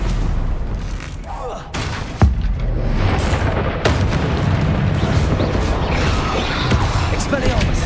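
Confringo spell blasts during combat in Hogwarts Legacy, heavy booming explosions over a loud, dense game mix, with a voice talking throughout.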